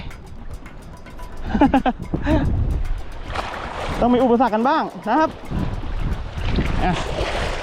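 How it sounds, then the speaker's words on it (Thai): Wind buffets the microphone with a low, gusting rumble on a boat at sea during squid fishing off Ko Si Chang island, continuous and close under someone talking. "ตกหมึกทีไรลมออกทุกที"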